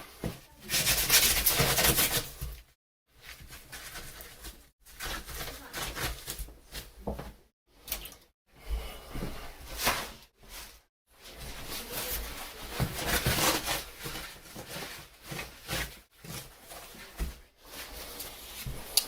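A bathroom sink is scrubbed with water and Ajax, giving gritty rubbing strokes in bursts of a few seconds with short pauses between them, close and fairly loud, and a voice speaks faintly now and then.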